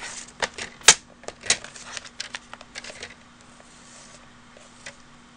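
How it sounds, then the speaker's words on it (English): A Stampin' Up paper trimmer cuts cardstock for a handmade Christmas card, heard as a quick series of close, crisp clicks and sliding scrapes, loudest in the first two seconds and then trailing off into light taps. "Get my Stampin' trimmer back here. And I'm going to trim that down."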